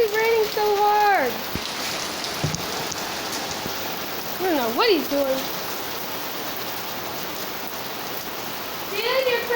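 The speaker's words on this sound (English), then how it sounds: "It's literally raining so hard." Heavy rain pours down in a steady, dense hiss that fills the whole scene, with people talking and calling out over it now and then.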